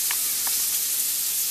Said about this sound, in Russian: а теперь ждем, пока она поджарится